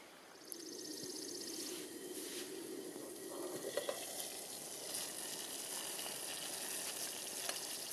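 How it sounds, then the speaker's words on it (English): Water heating in a pot over an alcohol camping stove on a backpacking trip to Lone Peak, a steady soft hiss and low roar with faint crackle, close and continuous, no voices. "And just wait for your water to boil."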